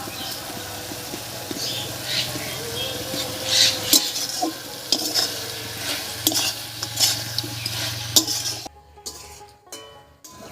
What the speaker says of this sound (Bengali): ধনেপাতা কুচি দিয়ে একটু নাড়িয়ে নিয়েছি।